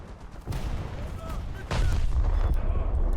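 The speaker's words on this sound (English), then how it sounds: "Right, bring the guns to bear. Open fire!" Guns open fire on a battleship in a war video game, loud booming blasts over a heavy low rumble, building to a sustained barrage.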